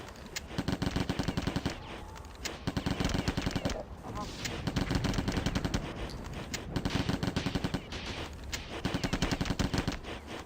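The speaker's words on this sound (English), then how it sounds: "this gun, the flechette gun, which is what they added in Infinity" The flechette gun firing in Marathon Infinity, rapid bursts of sharp, rattling shots in long volleys with brief pauses, loud and close.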